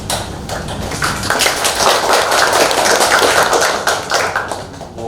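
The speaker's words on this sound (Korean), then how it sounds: "박수로 환영해 주시기 바랍니다." An audience at a Korean medicine exhibition opening in a hanok venue welcomes a speaker with close, steady applause that stays loud throughout the five seconds.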